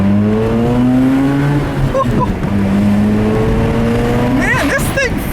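A 2004 Mazda RX-8 rotary engine revs hard at high RPM, a loud, smooth rising whine that climbs steadily, briefly drops as a gear changes, then pulls up again, heard from close inside the car.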